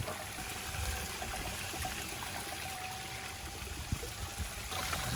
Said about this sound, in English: Spray bar up in there is doing its job there.